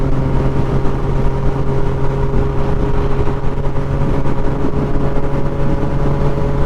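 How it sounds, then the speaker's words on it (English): A motorcycle with an aftermarket, non-stock exhaust rumbles steadily throughout, a continuous mid-pitched engine drone at moderate loudness with no talking. "It's not like ear-deafening loud, but it's definitely not a stock bike."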